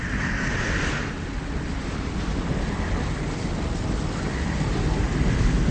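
Wind roars without a break through an Arrakis desert storm. The noise is broad and turbulent, with a brief higher whistle early on, and stays loud and steady throughout, with no voices.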